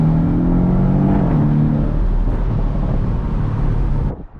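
A 2017 Porsche 718 Boxster base with PDK, driven in sport mode with its exhaust valves open, roars loudly and steadily from the exhaust, the growl holding for several seconds before it drops off abruptly at the end.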